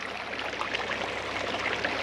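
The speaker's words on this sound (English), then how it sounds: "Lots of water running." Water runs steadily through drainage ditches in a field after 1.5 inches of rain, a continuous soft rushing and gurgling without voices.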